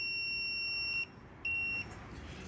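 A multimeter set to continuity test gives two sharp, steady electronic beeps, each about a second long with a brief gap between, close and clear over quiet workshop background noise.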